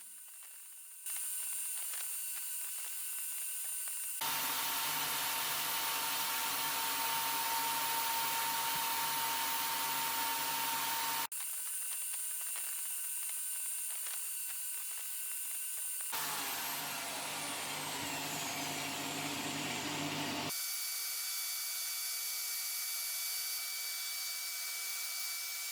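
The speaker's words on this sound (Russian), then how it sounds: "Подводим опять фрезу, врезаемся и повторяем то же самое." A milling cutter on a lathe cuts a flute into a drill blank, producing a loud, steady high-pitched whine and grinding that switches on and off in several long passes, with short quieter gaps between cuts.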